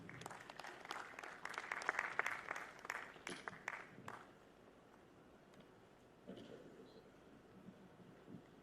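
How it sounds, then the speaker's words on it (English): Applause from a conference audience in the opening seconds, a dense patter of claps that thins and fades out by about four seconds, followed by quiet room noise and faint distant sounds. "A round of applause, please."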